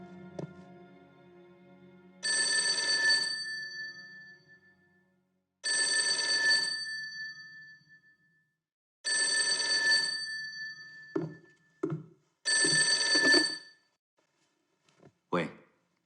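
An old telephone bell rings in four long bursts separated by pauses while a call is being put through at a wartime command post, followed by a few short clicks and a brief voice at the end.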